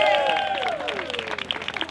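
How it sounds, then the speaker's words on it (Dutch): Light crowd clapping for the race winners at an outdoor winter run in a park, scattered claps under cheering voices and a bright whistling tone. "graag uw applaus voor Linda"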